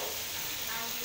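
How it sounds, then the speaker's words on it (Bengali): Rice tipped into a pan of sizzling vegetables for Chinese-style fried rice, giving a steady, close, dense hiss and crackle of frying throughout with no talking. "এখন আমি রাইসটা দিয়ে দিচ্ছি।"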